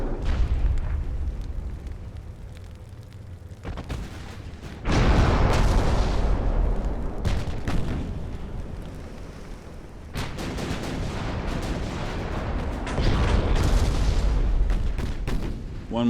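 Heavy naval guns of the battleship Bismarck fire in the Ultimate Admiral: Dreadnoughts battle against the Hood, deep booming blasts followed by long rumbling roars, loud and repeated several times.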